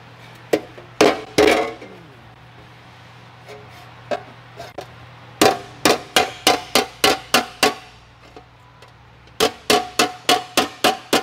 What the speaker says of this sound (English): So I'm just going to hit this to get that burr out of there.